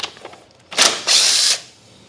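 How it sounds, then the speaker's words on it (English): A power tool with a 1/2-inch socket spins off a nut in two close, loud whirring bursts, the second longer and steadier, after a few light taps. "So I'm going to remove this nut"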